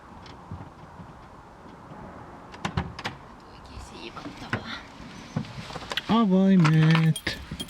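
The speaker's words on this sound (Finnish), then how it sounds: "Avaimet." Keys jangle with bursts of light metallic clinks near a camper van, mixed with handling and shuffling noises, while a person talks faintly in the background.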